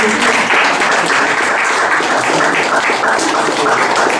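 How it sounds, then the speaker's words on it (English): Members at a Toastmasters milestone meeting keep up loud, close applause, a dense, even clatter of many hands that runs without pause and without talk over it. "Let's keep the applause going."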